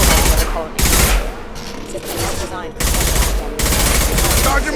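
Bursts of automatic gunfire ring out in Mass Effect Legendary Edition combat, with several loud rapid volleys broken by short gaps.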